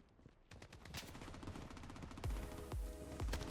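Rapid bursts of automatic AK-47 and Glock fire in a Warzone-style shooter, dense cracking shots in quick succession growing louder, with heavy booming impacts toward the end.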